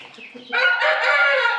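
Chickens and a rooster in a farmyard coop crowd of about a hundred chicks, a loud close burst of crowing and clucking rising after a softer start.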